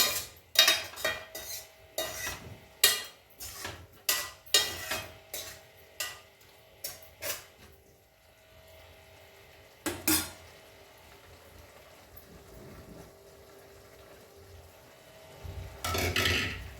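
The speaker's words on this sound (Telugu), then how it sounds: "పెరుగు ఇప్పుడు వేయంగానే ఇట్లా మనం కలిపేసుకుంటే" A spoon stirs yogurt into the curry gravy of a fenugreek-leaf, potato and tomato kurma in a pan, making a run of sharp, close metal clinks and scrapes for several seconds, then a quieter stretch broken by a few last knocks.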